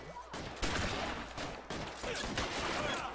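Shotgun fire in L.A. Noire, a rapid series of loud blasts in close succession, each followed by a short echoing tail, with no talk over it.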